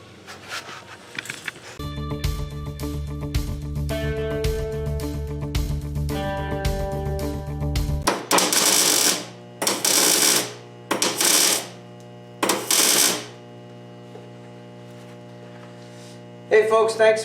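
Paint gun spraying primer on a Mazda B2200 extended cab truck in a shop, several loud bursts of hissing spray in separate pulses following a humming compressor or machine drone.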